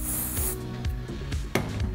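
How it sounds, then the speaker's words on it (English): JOICO Power Spray hairspray is misted onto the palms in a single bright hiss lasting about half a second, followed by soft rubbing and handling sounds close to the mic. "I'm going to do this by spraying it onto my palms just to get a light mist."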